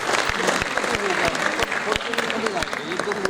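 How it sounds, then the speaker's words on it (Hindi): Audience applause at the Bundeli Mahotsav 2023 cultural festival, a dense steady burst of many hands clapping that fills the whole stretch at close range. "तो एक बार सब औरों के लिए तालियां बजा दें"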